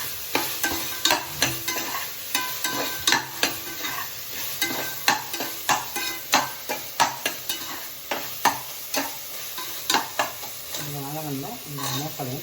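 Onion and tomato fry in a pan for a homemade soup while a spoon stirs them in a steady, rhythmic scraping beat over a continuous loud sizzle, with a voice briefly heard near the end.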